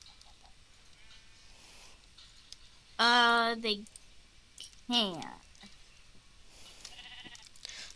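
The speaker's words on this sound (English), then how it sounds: "That's a black sheep." Two loud sheep bleats from a Minecraft-style game, one long wavering bleat and a shorter one a second later, standing out over quiet background play, with a brief spoken remark nearby.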